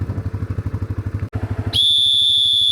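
A loud, sustained high whistle sounds close up after a rapid pulsing engine-like putter, blown to call pheasants or game birds being fed at a shoot in early January.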